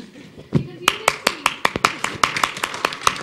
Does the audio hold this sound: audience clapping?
yes